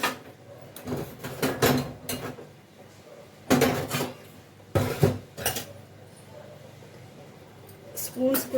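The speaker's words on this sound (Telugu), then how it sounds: "స్పూన్స్ కూడా ఇలా గట్టిగా తోముకోవాలి" Metal spoons being scrubbed hard with soap while dishes are washed, producing bursts of clinking and scraping cutlery and utensils against each other, close and fairly loud, with brief quieter gaps between.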